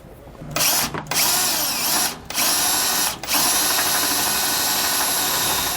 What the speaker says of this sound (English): 17/32 drill bit and enlarge them to the final size.